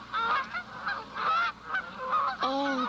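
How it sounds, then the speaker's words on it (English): Several ducks honk and call in repeated bursts, loud and close, with a short gap between each volley and no talk over them. "the ducks are flying south for the winter"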